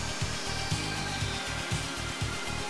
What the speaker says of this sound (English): The 5-axis universal mill can also be fitted with up to 3 tools.